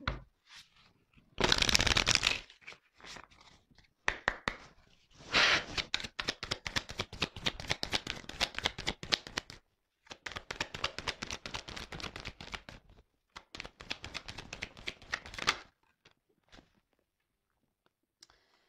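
Tarot cards being shuffled by hand, with rapid papery riffling and flicking in several long runs broken by short pauses, close and fairly quiet, with no talk.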